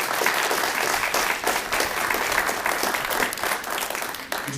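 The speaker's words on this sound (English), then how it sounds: "Let's give them a round of applause for their participation." An audience at a 2011 council candidates' forum claps for the candidates, a full sustained round of applause that stays steady and close before tapering slightly at the end.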